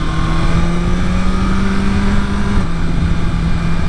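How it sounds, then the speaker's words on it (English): A 2023 BMW S1000RR motorcycle engine droning steadily and loud, its pitch holding then dropping abruptly as a quick-shifter gear change cuts in, with no talk. "Man, that quick shifter."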